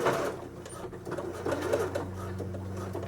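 A sewing machine stitches elastic onto a sleeve edge, its steady mechanical whirr running close and continuous for a few seconds with a brief back-and-forth rhythm.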